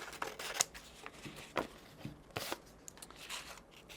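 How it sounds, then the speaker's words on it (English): Scissors cut a piece from a sheet of sandpaper in a few quiet, crisp snips and rasps, close by in a still room. "I'm going to cut off a piece of this sandpaper."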